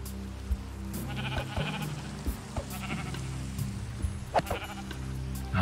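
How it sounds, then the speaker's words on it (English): Sheep bleating in Minecraft on a mountainside, several short repeated bleats at moderate loudness over a steady rain-like game ambience, no talking. "I see a sheep over there."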